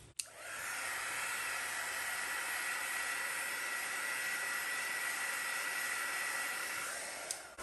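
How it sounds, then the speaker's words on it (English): A heat tool blows steadily onto poured acrylic paint to raise cells, a constant airy hiss like a hair dryer that switches on at the start and cuts off near the end, heard alone at moderate volume. "So now I'm going to actually hit that with the heat tool."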